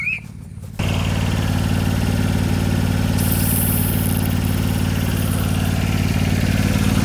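A small air compressor's engine runs steadily at a constant drone while filling its tank for pumping up tires, starting abruptly after a brief quiet moment and continuing loud and close without talk.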